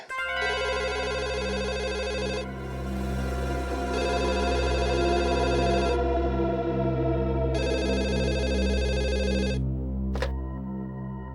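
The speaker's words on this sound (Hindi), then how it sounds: "मैंने तो कोई फोन किया ही नहीं, तो फिर फोन कहां से?" A telephone rings in repeated electronic bursts with short pauses between them, loud and close, ending with a sharp click, in a TV crime drama scene.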